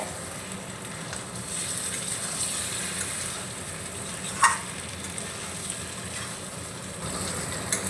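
Lightly boiled potatoes being stirred into a hot pan for aloo biryani, giving a steady close hiss and sizzle with soft scraping throughout and one sharper clink near the middle, no voices.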